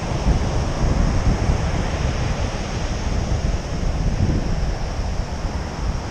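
Waves wash onto an empty beach on a chilly, windy day, with a loud broadband surf roar and gusty microphone wind buffeting throughout, and no voices.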